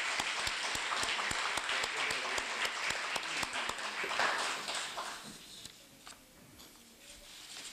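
Audience applause fills a Korea University auditorium at a remodeling completion ceremony, dense sustained clapping for about five seconds before fading to a quieter room with scattered claps.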